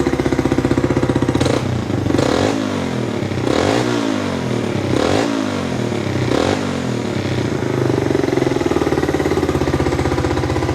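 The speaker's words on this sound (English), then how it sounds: "Let's give it a couple of revs." A motorcycle engine running after a carburetor rebuild, first time running properly in years: a steady idle broken by about five sharp revs that rise and fall, close and loud, then settling back to a lumpy idle.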